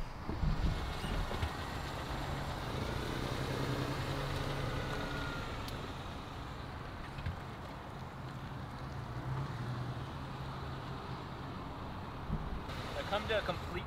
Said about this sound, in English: See how much noise the car makes when you try to go up the hill.